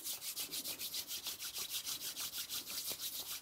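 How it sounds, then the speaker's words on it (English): Hair styling product being rubbed briskly between two palms, a fast regular swishing rhythm of about six strokes per second, close and fairly quiet, with no talking. "I'm going to rub it in my hands really, really good."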